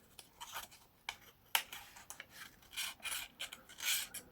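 Repeated dry rasping strokes, a knife edge drawn across receipt paper in uneven stropping passes with short pauses between, close and fairly quiet.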